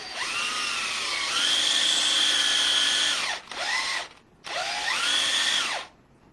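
A power drill bores into hardwood with a worn, overheating bit, whining loudly in sustained high-pitched runs that bog down and rise again, with two brief pauses between bursts.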